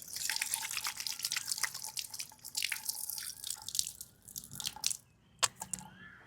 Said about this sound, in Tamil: இந்த இடத்துல ஒரு டேப் பாயிண்ட்டுமே கொடுத்துருக்காங்க.